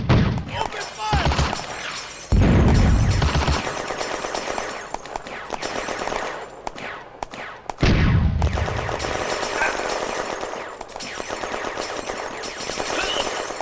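Gunfire in a June 1940 battle at Bléneau railway station, with rapid machine-gun bursts and sharp rifle shots, plus heavy thumping impacts at a few points, loud and near throughout a chaotic firefight.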